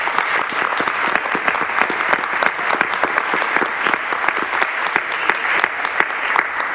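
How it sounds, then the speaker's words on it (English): At a school board meeting, the audience gives a round of applause for community volunteers, with many sharp individual claps forming a brisk, continuous patter at fairly close range. "Please give these people a nice round of applause for their efforts"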